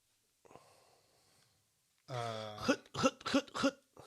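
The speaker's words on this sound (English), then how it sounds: "it was clearing my throat" A faint breathy exhale, then a close, throaty rasp and a few short guttural clearing bursts in quick succession.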